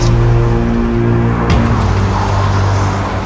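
A car pulls up close by, its engine humming loudly and steadily with a brief tire or brake noise midway, and no one talking.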